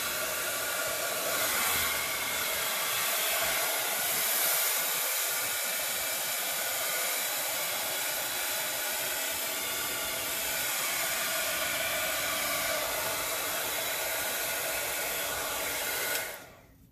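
A hair dryer blows steadily over alcohol ink poured into large colorful circles, a loud unbroken whooshing hiss that holds for the whole stretch and cuts off abruptly at the end.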